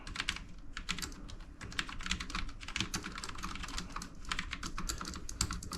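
Rapid, steady typing on a Dell Alienware AW510K low-profile mechanical keyboard, with dense clicky keystrokes clattering continuously and close up, some hit hard, and no voices.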